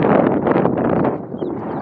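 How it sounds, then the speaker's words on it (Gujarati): Strong wind blows steadily over a flooded farm field of submerged sorghum, a loud close rushing roar buffeting the microphone throughout with no talk. "તમને થોડોક પવનનો અવાજ આવતો હશે"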